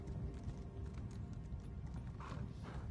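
Horse hooves clip-clop steadily in Elder Scrolls Online, a continuous rhythmic trot under a dense, rumbling game soundscape.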